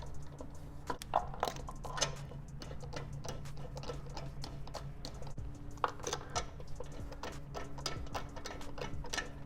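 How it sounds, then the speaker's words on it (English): Wheel bolts being hand-threaded into the hub of a BMW M340i with a protective socket, giving a run of small close metallic ticks and clicks in an irregular rhythm, no talking. "I go ahead and use my protective socket, hand tighten the ones in just to hold it."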